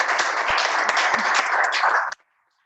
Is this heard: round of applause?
yes